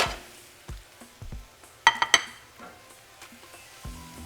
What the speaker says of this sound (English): we're going to throw in our meat.